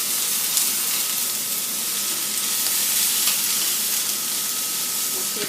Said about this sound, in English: So we saute our onions just till they're a little bit soft.